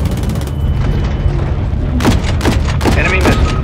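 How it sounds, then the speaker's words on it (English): Missile explosions in Call of Duty Modern Warfare III, a run of loud booming blasts under steady rumbling battle noise, with several sharp bursts crowding the second half of the clip. "Missiles incoming."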